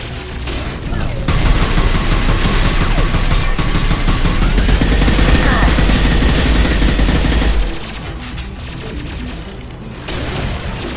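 Heavy weapon fire in the Mass Effect 2 Legendary Edition game, loud sustained automatic bursts with booming impacts, dropping off toward the end under a voice.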